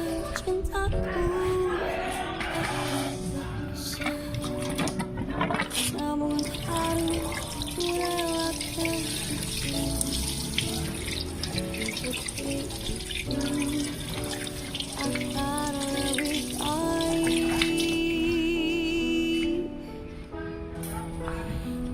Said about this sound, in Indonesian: setelah disiram air ya, supaya tujuannya hanya merontokkan kotoran yang nempel aja sih sebetulnya